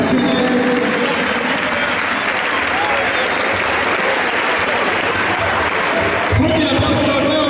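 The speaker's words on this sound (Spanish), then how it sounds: "Fuerte el aplauso nuevamente para todos ustedes." Sustained applause from an audience at a school sports closing ceremony, dense and steady throughout, with a voice talking over it near the end.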